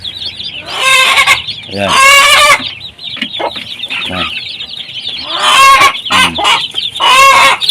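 A noisy hen clucks and squawks loudly in repeated bursts before laying an egg, close and insistent, with a person briefly speaking between the calls.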